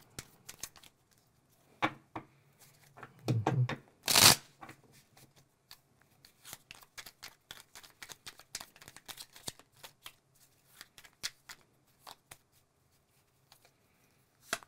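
Tarot cards being shuffled close by, with soft scattered riffles and flicks, one sharp loud riffle burst near the start, then a quieter patter of card taps and slides.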